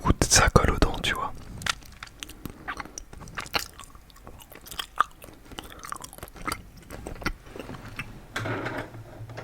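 Belgian Smurf candy chewed close to the mic, with sticky, wet mastication, bites and small crunches in an irregular rhythm, and soft breaths between.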